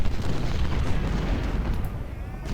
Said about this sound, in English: Our heavy artillery are opening up on Klaus.